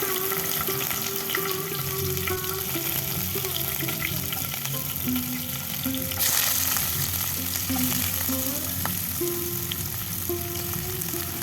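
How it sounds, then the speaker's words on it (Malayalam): Onion, green chili, ginger and garlic sauté in hot oil for a tomato curry, giving a steady close sizzle with faint stirring scrapes and clinks throughout, no voices. "അതിനി നമുക്ക് പതുക്കെ വഴറ്റി കൊടുക്കാം"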